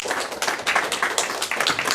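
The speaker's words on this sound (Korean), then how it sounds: "목사님 나오실 때 크게 박수로 찬양을 드리겠습니다" A church congregation claps steadily together as the pastor comes forward, a dense, close patter of hands with no voices over it.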